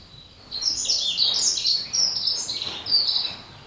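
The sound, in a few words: small farmland bird singing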